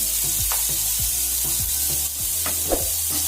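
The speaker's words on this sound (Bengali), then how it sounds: "এখন এই চিংড়ি মাছগুলোকে লবণগুলো দিয়ে ভেজে নিতে হবে" Prawns fry in a pan with salt and turmeric, making a steady close sizzle. A spatula scrapes and stirs in a loose repeating rhythm, with no talking.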